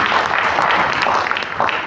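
Loud, close, continuous clapping from an audience at an MI Lifestyle business training session in Delhi NCR, dense and even for the whole two seconds with little talk.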